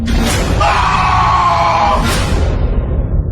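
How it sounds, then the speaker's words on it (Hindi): A man lets out a loud, frightened scream as a dramatized sound effect in a spoken ghost story, one sustained yell rising and then cut off, with no talking over it. "ध्रुव के गले से एक अजीब सी डरी हुई चीख निकली"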